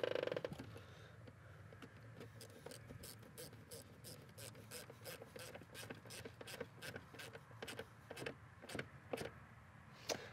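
Ratchet wrench clicks in a quick steady run, tightening an 8 mm bolt at the throttle body connection of a 2010 Nissan Maxima engine, close and fairly faint.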